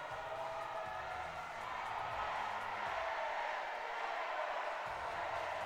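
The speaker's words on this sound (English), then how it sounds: "Listen to this crowd." Large crowd cheering and roaring continuously at a junior college men's basketball championship celebration in Bel Air, Maryland, a steady, dense wall of noise with no clear breaks.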